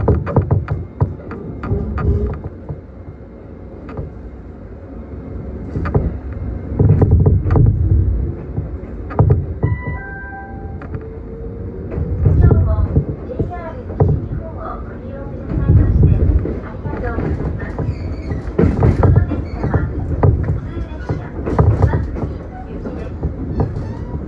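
A local train pulls out of Shimonoseki station in Yamaguchi on the San'yo Main Line, its rumble and throb rising with repeated rail clatter. A brief tonal chime sounds partway through, under a steady low roar.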